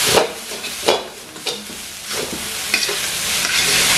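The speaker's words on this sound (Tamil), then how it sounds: "ஸோ மிக்ஸ் பண்ணி போட்டு 2 நிமிஷம் இப்படியே ஃப்ரை பண்ண விடுவோம்." Rice for shrimp fried rice tossed and stir-fried over high heat, a loud continuous sizzle punctuated by repeated scraping strokes of a spatula in the pan, close up with no voices.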